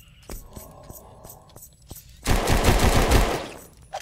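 Rapid automatic gunfire in the horror video game Puppet Master, a dense burst of loud shots lasting over a second after quieter game sounds, with faint voices underneath.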